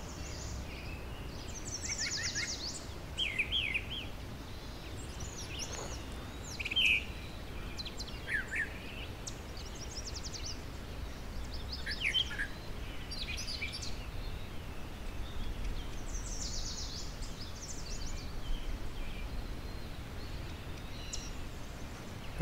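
Either a mockingbird or a brown thrasher sings outdoors at Long Point, repeating varied short phrases at intervals, faint and distant over steady background ambience.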